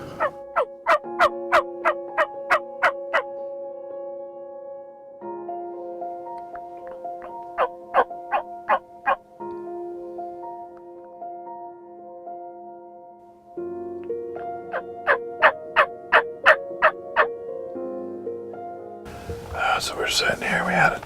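A Gould's turkey gobbles near a hunting blind in several loud, rapid bursts of repeated calls, separated by short pauses, with other softer calls between them and a rustle of noise at the end.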